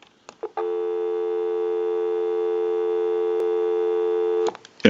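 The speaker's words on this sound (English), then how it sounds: "Go ahead and give you some dial tone." A North Electric Ericofon telephone gives a steady, unbroken dial tone lasting about four seconds, clean and close, bracketed by brief handling clicks at start and end.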